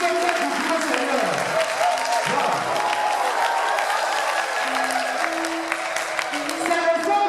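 A congregation at an evangelization gathering applauds the Lord, a sustained wash of clapping and crowd noise with voices and tonal sounds mixed in throughout.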